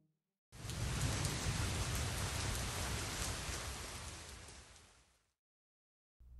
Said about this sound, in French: Je n'aime pas la pluie.